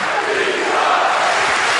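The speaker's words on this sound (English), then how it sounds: "now the chants go up" Boxing arena crowd at a heavyweight fight between Vitali Klitschko and Dereck Chisora, a loud sustained roar of massed voices rising into chants, dense and continuous throughout.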